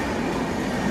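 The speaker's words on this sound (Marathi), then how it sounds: "पहिली डहाणू लोकल" A Dahanu local commuter train rolling into Virar station in the early morning, a steady loud rumble of wheels and carriages heard from close by.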